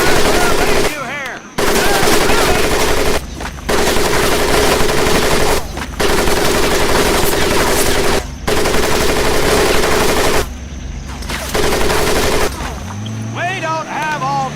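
Loud, sustained machine gun fire in long bursts with brief gaps over a Marine training mud pit in the Medal of Honor Pacific Assault video game, close and harsh, with a voice briefly heard near the end.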